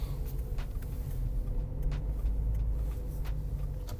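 A Geely Emgrand EC7 sedan rolls over a speed bump, heard from inside as a steady low road and engine rumble with a few soft thumps, no talking.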